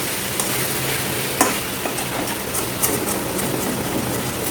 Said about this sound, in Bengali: ভালো করে 5 থেকে 6 মিনিট আপনাকে এরকম করে নাড়িয়ে যেতে হবে